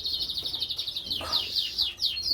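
Canaries in a breeding room chirp in quick, bright repeated trills, a steady run of high tweets at moderate closeness with a brief louder burst midway.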